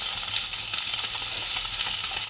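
Small parshe fish frying in hot oil in a wok, a steady dense sizzle and crackle, close and continuous, with no talking.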